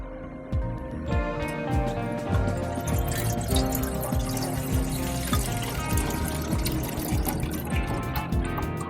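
Soil sample material is poured with water during a laboratory washing step for a sieve test, producing a steady, close splashing pour with continuous gurgling and trickling that lasts throughout.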